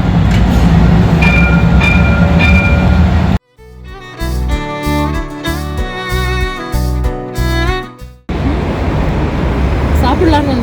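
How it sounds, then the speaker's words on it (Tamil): A tram rolls past on its rails with a loud, close, broadband rumble. The passing sound is cut midway by a stretch of music and then returns, steady and near. "இங்கே ட்ராம் வருது பாருங்க, க்ளோஸ்அப்பில் காமிக்கிறோம் பாருங்களேன்."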